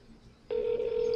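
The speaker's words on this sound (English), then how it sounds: "It's ringing." A phone rings for an incoming NetTalk call: a steady electronic tone starts abruptly partway through and holds loud and unbroken to the end, with no voices.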